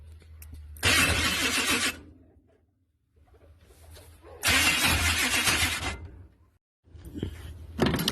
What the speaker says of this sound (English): Here's my first crank test run here on starter setup